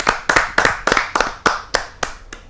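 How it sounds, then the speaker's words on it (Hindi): Rhythmic clapping at a Hindi poetry gathering as a poet is welcomed to the stage, loud close claps landing in a regular beat, about nine in quick succession. "हम उनको आमंत्रित करते हैं आप सबकी जोरदार तालियों के माध्यम से"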